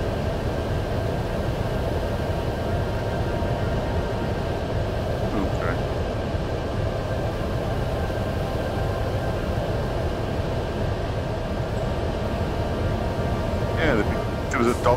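An aircraft flies by in the VR flight game Faceted Flight, a steady loud engine roar and rushing wind holding evenly throughout, with the player speaking over it.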